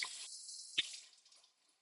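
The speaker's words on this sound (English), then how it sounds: "Give them a little rinse." Lamb and herbs are rinsed under a running tap, a brief splashy hiss of water with one sharp drip-like splash, faint and close, then quiet.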